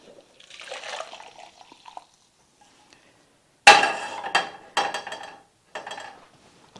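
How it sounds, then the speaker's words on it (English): Hot water goes into a cup holding Jello mix. Short pours and splashes come in separate bursts after a quiet opening rustle, close and fairly loud, with no voices. "Then I'm going to pour my hot water in here."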